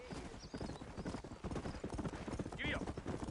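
Rhythmic horse hooves clip-clopping in the western video game Red Dead Redemption, set in a town in New Austin, with a steady trot under a man's speech and a brief horse whinny near the end.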